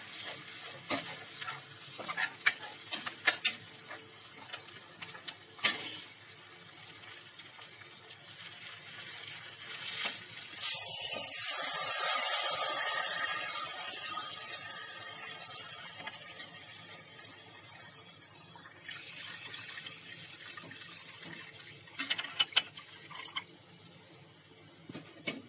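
Potatoes and peas with their water poured into a simmering gravy for Banarasi aloo matar, a sudden loud hiss and splashing sizzle that fades slowly over several seconds, amid quieter stirring and kitchen clatter.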